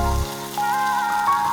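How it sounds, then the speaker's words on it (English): Hot oil poured over a ginger mix sizzles sharply at first, then settles into a steady crackling hiss with a faint ringing tone, close up and with no voices. "Slowly and gently pour the hot oil over the ginger mix and listen to that sizzle."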